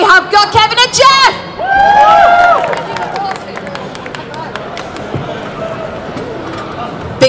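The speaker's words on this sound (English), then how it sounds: "Big cheer for Kevin and Jeff, everybody!" A convention crowd at a Power Rangers Dino Thunder panel cheers and claps loudly, with shouts and whoops that swell and then fade into scattered clapping and murmuring. Someone speaks loudly over the start.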